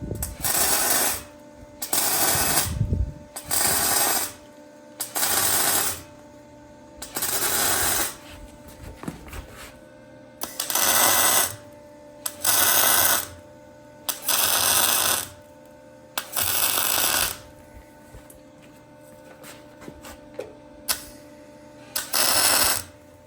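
A Super Duty high steer kit being welded, the arc crackling and buzzing loudly in repeated bursts of a second or two, separated by short quiet gaps, with no talking.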